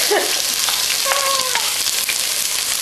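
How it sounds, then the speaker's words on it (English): Onions hitting a hot pan at the start of a beef barley stew: loud, close, continuous sizzling with brief stirring scrapes and a short clatter in the middle. "after our pan is good and hot, we're going to add our onions"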